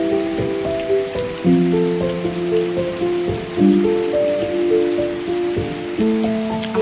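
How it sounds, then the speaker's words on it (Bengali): Steady monsoon rain pours over a rural Bengal village where paddy fields are flooded. The even wash of drops sits beneath sustained musical tones and shifting melody lines, with no talking. "অনবরত বৃষ্টি পড়ে যাচ্ছে।"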